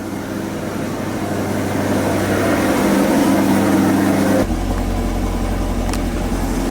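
A Corvette engine idles steadily after its cooling system has been refilled, a continuous loud low rumble with an even drone and a brief shift in tone partway through, with no talking.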